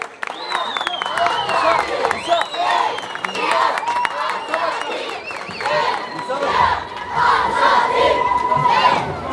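A political rally crowd in Gaziantep ululates and applauds, loud overlapping high trilling cries and shouting over dense clapping, sustained and energetic throughout.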